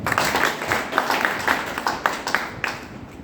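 A small gathering claps at a financial seminar on tax refunds, with a loose run of distinct handclaps coming close and fairly loud for a few seconds, with no talk over them.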